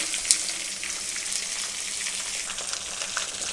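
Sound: okra (bhindi) added to a hot pan, frying

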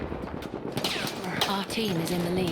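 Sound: gunfire in the video game Battlefield 1

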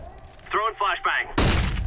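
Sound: flashbang grenade going off in Counter-Strike video game

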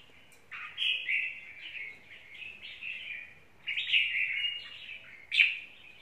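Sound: caged songbird chirping

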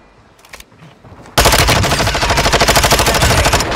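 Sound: gunfire in the video game Warzone 2.0

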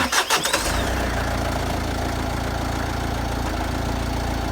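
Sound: engine started and idling during an oil pressure check

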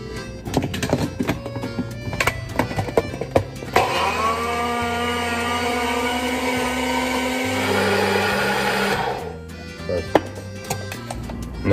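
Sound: blender mixing a smoothie with juice and protein powder

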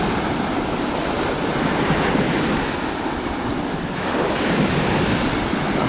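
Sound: ocean waves breaking on a sandy beach

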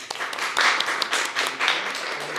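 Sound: audience applause

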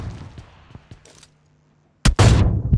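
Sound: gunfire in a video game

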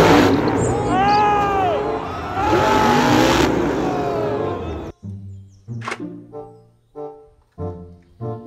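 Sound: toy monster truck engine revving

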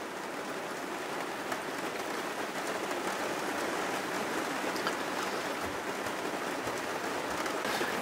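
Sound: rain falling outside a caravan

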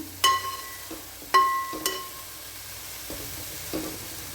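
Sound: stirring plantain peel and bean stir-fry (upperi) in pan

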